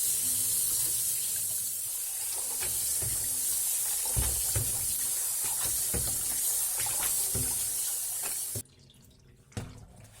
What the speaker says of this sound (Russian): Перекладываю в дуршлаг. И для начала хорошенько промываю.